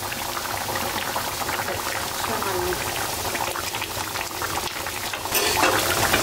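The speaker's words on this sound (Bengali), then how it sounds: "তরকারিটা ফুটে গেছে" A pot of egg curry boils steadily up close, a continuous bubbling hiss that grows a bit louder near the end, with a voice briefly heard over it.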